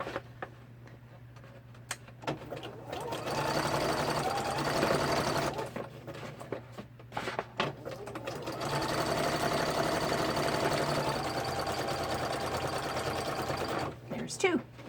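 A sewing machine runs in steady bursts of fast mechanical stitching through vintage wallpaper, pausing briefly between runs, close and fairly loud with faint voices underneath.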